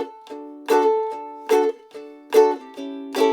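Ukulele plays the final bar of an 8-bar intro, several close chord strums with plucked notes between them in a steady rhythm, alone and unaccompanied.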